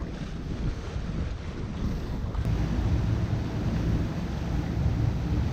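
A Hallberg-Rassy 54 sailboat motoring under engine: a low continuous engine drone rumbles beneath heavy wind buffeting and rushing water, steady and loud throughout.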